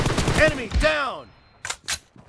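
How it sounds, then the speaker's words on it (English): Gunfire from the video game PUBG Mobile during a team deathmatch. Two sharp, close rifle cracks ring out after a burst of game voice lines, and one of them may be an M24 bolt-action sniper rifle. "Adamın elinde M24 var, mal gibi sıkıyor ya."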